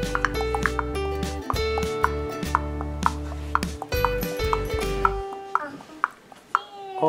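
A toy horse carriage from a Disney Princess Cinderella train set plays an electronic clip-clop effect with a jingly tune, steady trotting beats that fade into a few isolated pings near the end.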